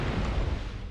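A low, rumbling artillery strike explosion in a tank battle game booms steadily and heavy for under a second, filling the low end with a sustained, dense roar.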